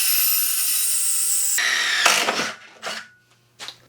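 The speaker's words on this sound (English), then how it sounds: "that'll be the last hole that drill bit ever drills" A cheap drill bit bores into wood: a high steady whine for about a second and a half, then rough grinding bursts and scraping as the bit chatters and catches, fading in short pulses.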